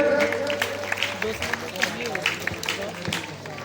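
An audience at a Mr and Miss Campbell Bay contest claps for the event trainer, a busy rattle of hands with sharper individual claps, while a voice talks over it.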